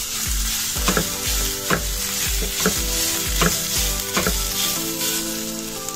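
Steady sizzling of grated potato frying in a pan, with regular scraping stirs and soft thumps of a utensil, no voices.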